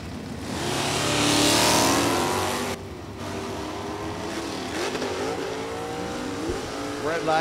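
1976 Chevrolet Monza drag car with a stock automatic launches at an NHRA strip, engine roaring loud and close then dropping and climbing through gear changes, with a track announcer talking over it.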